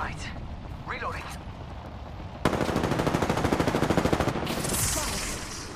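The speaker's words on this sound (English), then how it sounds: "Getting shot at." Rapid automatic gunfire erupts in Apex Legends, a long close burst of evenly spaced shots following quieter effects and brief voice calls, then fading into a hissing tail.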